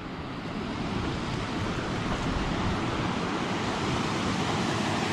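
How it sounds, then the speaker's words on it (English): Creek water running out of June Lake near Mount St. Helens, Washington, making a loud, steady broadband rush with no break and no talk. "Water's running good."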